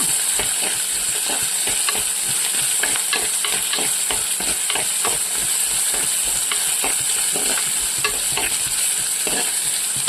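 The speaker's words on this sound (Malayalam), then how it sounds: "നന്നായിട്ട് വഴറ്റി കൊടുക്കാം" Onions sautéing in a pan for a prawn and plantain theeyal curry, a steady close sizzle broken by frequent scraping strokes of a stirring spoon, continuous throughout with no talk.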